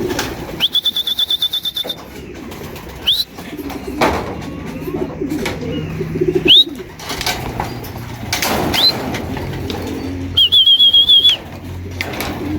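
Pigeons in a breeder's loft, with loud bursts of wing flapping and soft cooing and whistling calls, close by over faint background noise.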